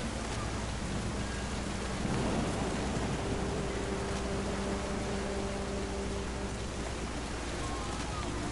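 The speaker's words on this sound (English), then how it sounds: "The thunder sounded much too close and full of angry power." Steady rain hiss with low rumbling thunder in a storm scene from the video game What Remains of Edith Finch, broadband and continuous with a slightly louder swell partway through.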